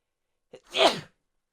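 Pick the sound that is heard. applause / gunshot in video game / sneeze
sneeze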